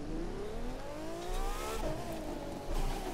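A Maserati MC12 Versione Corse races in The Crew 2, its engine climbing through revs in rising sweeps, dropping briefly at gear changes and pulling hard again, loud and close with no voices.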